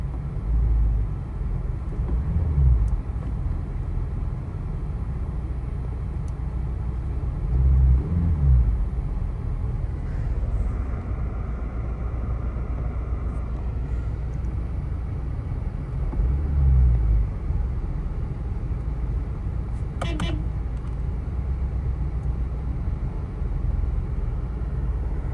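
A 2006 Honda Civic Coupe idles steadily after startup, a low, even engine hum holding for the whole stretch with a few faint knocks and clicks near the car, no talking.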